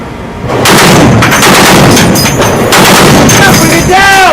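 A Browning M2 .50 caliber machine gun fires a loud, sustained burst of heavy automatic fire outdoors, continuous booming reports with a short gap and echoing tails.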